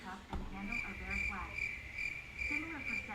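Crickets chirp in a steady, evenly pulsed rhythm, loud and close, with a faint undertone of other noise.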